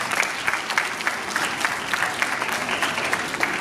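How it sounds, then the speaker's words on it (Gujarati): An audience at a school parents' meeting claps loudly in a dense, continuous round of applause honoring a guest speaker, steady and close. "એકવાર પાઠક સાહેબ માટે હેડ્સ ઓફ જોરદાર તાળીઓ કરવી જોઈએ"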